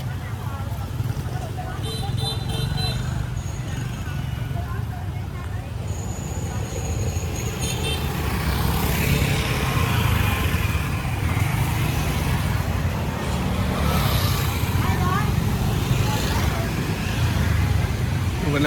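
Busy street traffic by a Saigon wet market, with a constant roar of motorcycles and other vehicles passing close, loud and unbroken, while people talk over it.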